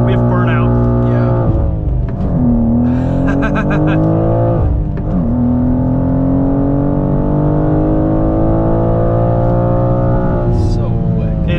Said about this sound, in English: We have burnout.